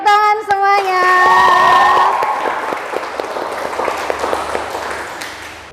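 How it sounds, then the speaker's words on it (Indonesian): A group of vocational school students in a classroom break into loud, close applause; a few sung or chanted voices ring out at the start before the clapping settles into a sharp, rapid patter that slowly thins. "Oke, tepuk tangan semuanya."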